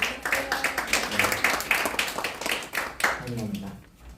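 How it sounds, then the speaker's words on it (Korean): Audience at a press meeting for overseas Korean journalists claps steadily in a dense, rhythmic round of applause that fades out near the end, with speech heard over it. "박수 한번 부탁드리겠습니다."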